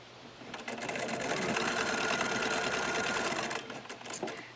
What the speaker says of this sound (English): Now we're getting to the part where we actually are sewing the mask.